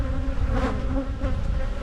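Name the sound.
honey bees buzzing at opened hive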